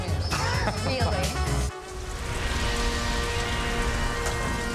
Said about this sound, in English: the rain kept continuing, and it didn't make things any easier for us